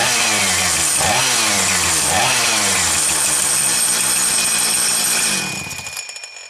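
A Husqvarna 455 Rancher chainsaw, bar and chain removed, roars loudly and steadily with a couple of throttle blips before the engine cuts and the sound drops away near the end.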